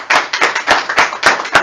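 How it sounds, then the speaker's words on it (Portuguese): Applause at a Catholic preaching event, six loud, close, evenly spaced claps in a brisk rhythm, with no talk over them. "Palmas para ele!"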